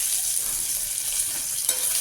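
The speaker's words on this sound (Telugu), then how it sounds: "కరివేపాకు వేస్తున్నానండి" Curry leaves dropped into hot oil with frying mustard seeds and paste hiss and crackle in a steady, close sizzle, with a sharper burst near the end.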